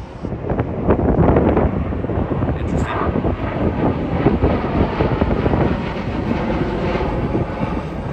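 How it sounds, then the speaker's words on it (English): An old biplane drones overhead, its steady engine rumble mixed with heavy wind buffeting the microphone. "Pretty cool plane flying over."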